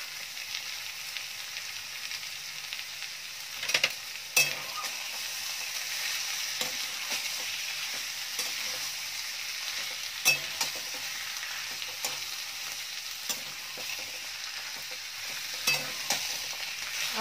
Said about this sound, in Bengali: এবার এর মধ্যে আমি যে কড়াইশুঁটিগুলো রেখেছিলাম সেটার মধ্যে দিয়ে দেব।